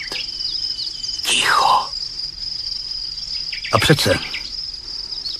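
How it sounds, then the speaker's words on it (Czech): Cicadas or crickets buzz in a steady high drone with small bird chirps on a branch, broken by two short bursts of speech. "Ptáček si popiskuje na větvi, na stromě vrhou cikády."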